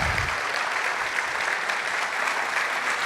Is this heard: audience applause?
yes